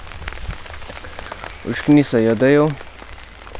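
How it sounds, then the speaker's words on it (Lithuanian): Light, fine rain pattering steadily during a float-fishing session outdoors, a soft continuous hiss that runs under a man's brief spoken remark. "Na čia matosi toks smulkus lietus"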